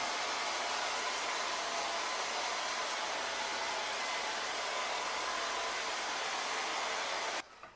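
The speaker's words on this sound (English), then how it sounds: "I'm going to take my blower and I'm going to fluff them up" A blower dries and fluffs wet feathers for a Venetian mask, producing a loud, steady broadband whoosh that runs continuously before cutting off abruptly near the end, with no speech.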